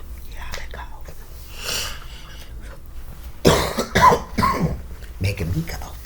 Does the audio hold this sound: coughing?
yes